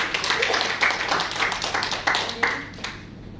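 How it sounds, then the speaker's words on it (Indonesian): A church congregation at a Sunday service applauding, a full round of clapping with a few louder individual claps standing out, tapering off toward the end. "Sekali lagi beri tepuk tangan."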